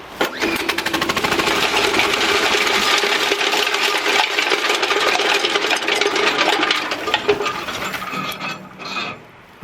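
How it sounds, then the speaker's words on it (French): Entry-level twin-hopper wood chipper's small engine catching and running after a start, a loud rattling, clattering mechanical din with metallic ticking throughout, fading and sputtering near the end. "Ça fait un sale bruit, mais il a démarré."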